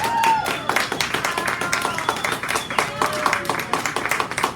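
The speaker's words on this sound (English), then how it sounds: "Let's give her another big round of applause." Lively clapping from a small open mic audience for a performer, with sharp, distinct individual claps at close range, irregular in rhythm, and some murmuring voices underneath.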